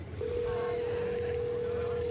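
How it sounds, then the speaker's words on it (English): A phone being dialed in the video game Scarlet Hollow gives a single steady electronic tone that starts after a brief moment and holds unbroken, clear and fairly loud, with no talking over it. "pulls out a phone and dials it, waiting while it rings"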